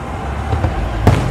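Fourth of July fireworks go off, a single sharp boom near the end over a steady low rumble of background noise, with no voices heard.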